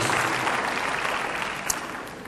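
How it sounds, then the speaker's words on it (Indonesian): A church congregation applauds during a sermon, a dense wash of clapping that stays steady and fairly loud throughout with no voices over it. "Yang percaya tepuk tangannya paling meriah buat Tuhan kita Yesus."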